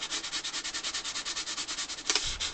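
An accordion part being hand-sanded with 400 grit sandpaper, giving close, steady back-and-forth rubbing strokes in an even rhythm, with a brief louder scrape near the end.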